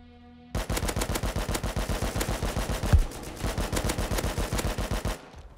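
Rapid automatic gunfire from a new rifle in the video game Rust, a steady burst of about thirty evenly spaced shots over five seconds, loud and close, with no talking.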